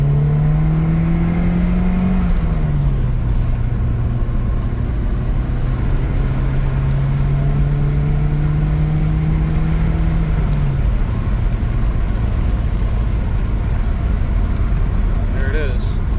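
A Saab 900 SPG pulls hard in second gear, its engine droning steadily at close range, with the pitch easing down about a third of the way in and dropping again near the end.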